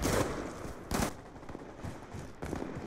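Gunfire in a first-person shooter with an AN-94 in play, several sharp loud shots standing out from a busy background of distant firing, with no voices heard.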